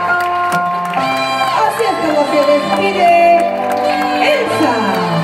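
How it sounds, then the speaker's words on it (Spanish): A circus audience at the Circo de los Hermanos Parada in Tembleque cheers and whoops, a crowd roar running steadily under loud music and an announcer's voice. "Pedirla con un fuerte aplauso."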